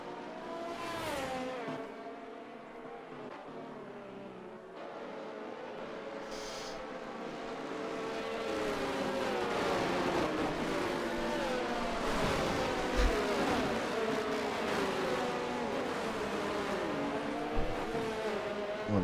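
Pack of race cars at Monza in a racing game restarting behind the safety car: multiple engines rev and accelerate together, rising from quieter idling to a dense, loud roar of overlapping motors that holds steady.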